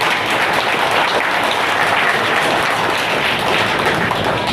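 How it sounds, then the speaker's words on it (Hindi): An audience at a hotel award ceremony for NEET-qualified students breaks into sustained, dense applause, many hands clapping loudly and evenly for several seconds with no speech over it. "बच्चों के लिए तालियां बजाएं पहले"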